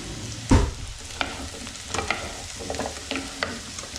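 Onions being stirred in a frying pan for a soft cheese and mushroom curry, with one sharp scrape of the utensil followed by lighter scattered clinks and a low steady sizzle, close and alone.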